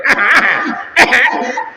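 A voice imitates the coughing and throat clearing of old men standing behind in prayer: two loud, rasping bursts with voiced hacking between them, close and clear.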